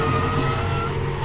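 Drift car engine at a motorsport event at Meremere, a loud sustained droning roar with a steady low rumble and tonal whine, close and continuous.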